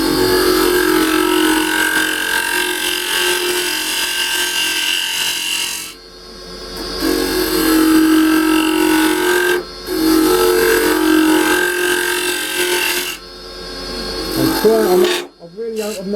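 Carbide tool hollowing wood on a lathe for a bird house, a steady loud scraping and rasping with a humming motor, broken by short pauses as the cut is lifted away.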